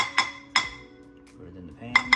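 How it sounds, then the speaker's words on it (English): Metal utensil clinks and scrapes against a grease container in a kitchen while pork cooks, with a few sharp clinks spaced apart and soft scraping between them. "scoop me out a little bit of grease"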